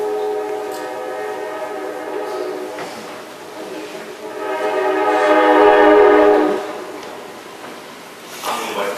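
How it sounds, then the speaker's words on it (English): A train passing by outside a hearing room, its horn sounding as a long sustained tonal blast that swells louder, then fades, with a final brief blast at the end. "We'll wait till the train goes through."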